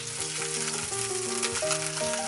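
Chicken thigh pan-fries in a little oil with a continuous close crackling sizzle, alone except for a tonal background hum.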